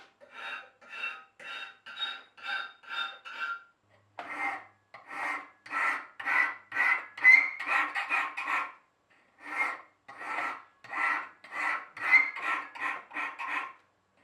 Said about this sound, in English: I'll switch to my bastard file again and just file in the bevels